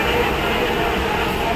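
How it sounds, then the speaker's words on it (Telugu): A Tirupati–Puri train arrives at a railway station, heard as a loud, steady rumble that fills the whole short moment, with a voice faintly present in the background. "ట్రైన్ వచ్చింది."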